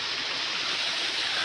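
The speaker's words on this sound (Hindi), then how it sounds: "और देख सकते हो झरना, पानी की झरना।" A waterfall rushes on a rainy day near a secluded temple, a steady, broad hiss of falling water with no other sounds.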